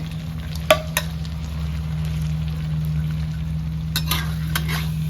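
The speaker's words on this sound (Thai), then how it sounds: "ใส่กุ้งลงไป ครับวันนี้ผัดกะเพรากุ้งนะครับผม" Shrimp stir-frying in a pan with fried chilies for Thai pad kra pao, a steady close sizzle with a couple of sharp scrape or clank hits early on and a few more near the end, with no talking and a constant low hum underneath.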